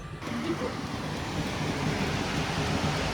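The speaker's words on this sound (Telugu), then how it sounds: "సో బయట వర్షం ఎంత ఉందో మీరు చూస్తారా." Heavy rain pours down in Pattaya, Thailand, in a continuous, even roar of hiss, with a faint low rumble beneath and no break.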